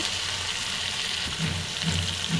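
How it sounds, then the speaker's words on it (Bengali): Spice paste with chilli, salt and turmeric sizzles steadily in a pan for Tengra fish broth, a continuous close hiss with soft low stirring scrapes. "এবার এটাকে আমি ভালোভাবে কষিয়ে নেব"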